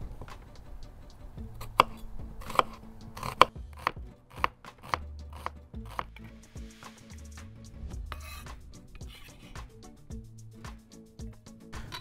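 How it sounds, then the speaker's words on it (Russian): Irregular knife taps on a cutting board while dicing red onion, quick chops in loose bursts with short pauses, close and fairly crisp, no talking. "Красный лук нарезаю кубиком."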